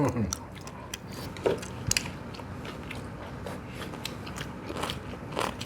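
Close crunchy bites and chewing of kimchi tuna gimbap with water dropwort, several soft crunches scattered over a few seconds, with quiet mouth sounds and no clear talk.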